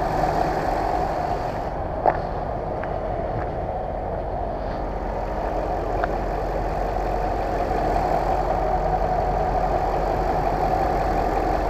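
A 2000 Jaguar XJ8 sedan engine idles steadily and quietly, a smooth continuous low hum with no talking, one faint click early on.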